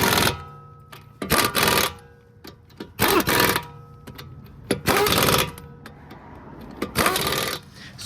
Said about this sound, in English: we're going to torque the tire